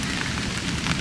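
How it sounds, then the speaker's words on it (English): Rain just beginning to fall at a campsite, a dense, steady hiss of drops close by with no voices over it. "It just started to rain"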